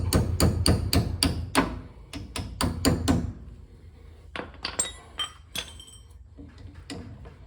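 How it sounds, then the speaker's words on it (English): A slotted washer hammered into a 1957 Studebaker Silver Hawk steering wheel for a puller: a quick run of about a dozen sharp metallic strikes, a short pause, then a few lighter taps and clinks, close and loud. "We're going to drive this in, slide the steering wheel puller over it, and hopefully get it right out."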